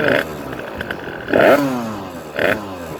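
A 2009 Rieju MRT motorcycle with an MVT DD kit revs high in three close, quick bursts, each climbing in pitch and falling back between them. A voice may be mixed in.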